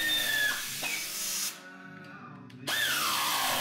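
A power tool whirs in rising and falling bursts while tightening the brake caliper bolts on a Buscadero BSX 110r pit bike, then briefly goes quiet and restarts, close and fairly loud with no talking.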